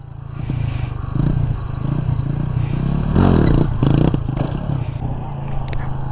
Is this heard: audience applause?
no